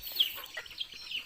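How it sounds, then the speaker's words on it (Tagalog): Chickens in a backyard flock cluck in short, faint bursts a few times over about a second, with no voices. "first time ko lang na mag-alaga ng ganitong karaming manok"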